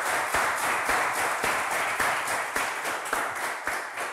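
Studio audience on a French game show applauding, a dense, even wash of clapping with faint sharper claps, sustained and fairly close, without speech.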